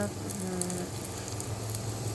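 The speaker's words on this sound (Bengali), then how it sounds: "জিরে তেজপাতা ফোড়ন দিলাম, দিয়ে এবারে ভালো করে ভাজা হবে।" Cumin seeds and bay leaf tempering in hot oil at the start of a Bengali fish curry, giving a soft, steady sizzle that stays fairly quiet and even throughout.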